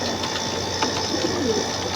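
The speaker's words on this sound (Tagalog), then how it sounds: "Ayan mga kalapatids." Racing pigeons of Jan Aarden and Jansen lines coo softly inside a loft, giving a few low, rounded calls close by over faint background noise.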